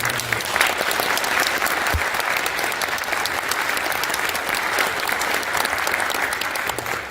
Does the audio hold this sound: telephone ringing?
no